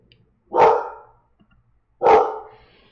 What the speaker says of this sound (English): she's barking at the neighbors